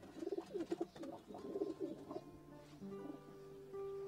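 Pigeons coo in soft, repeated bursts at close range among fanciers' birds in Kashmir. A steady tonal hum persists in the background.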